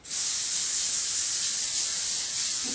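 Cooking spray hisses from the can onto a pan, one steady, bright, close spray lasting a couple of seconds, with no voices.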